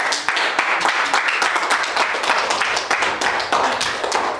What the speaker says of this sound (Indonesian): Kita beri tepuk tangan semuanya.